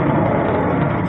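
Sukhoi Su-30MKI fighter jet during an aerobatic display, a dense, loud, steady roar of jet engines lasting about a second.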